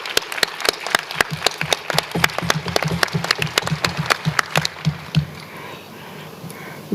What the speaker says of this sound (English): And an applaud, please,